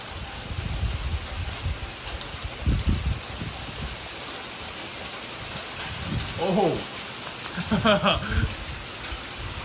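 Heavy sleet patters steadily during a thunderstorm in Norman, Oklahoma, with some low rumbling bursts, and a voice briefly exclaims near the end.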